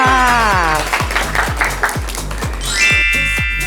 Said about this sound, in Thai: สวยไหมคะปรบมือหน่อยค่ะ